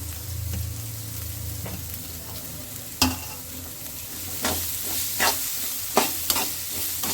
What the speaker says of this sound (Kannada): ಅದು ಚೆಂದಾಗಿ ಗೋಲ್ಡನ್ ಕಲರ್ ಬರ್ತಕ್ಕ ಸ್ವಲ್ಪ ಚೆಂದಾಗಿ ಫ್ರೈ ಮಾಡ್ಬೇಕು ಉಳ್ಳಾಗಡ್ಡಿ